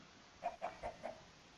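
A Minecraft chicken clucks four times in a quick, evenly spaced run of short, clear clucks, alone against quiet game ambience.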